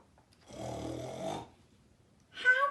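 A voice imitates a dog snoring, giving one long, loud, rasping snore followed by a short snorting snuffle after a pause.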